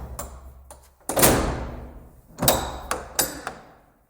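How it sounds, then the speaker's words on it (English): A heavy door at Alnwick Castle, a historic English castle, is pushed open into the entrance hall. There are several loud knocks and thuds and a broad scraping swing, all close by, with no talk. "I'll open the door now and we'll head into the entrance hall."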